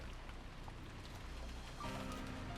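Rain falling in the Umineko visual novel, a steady soft hiss of rainfall at low level, with a low hum joining partway through.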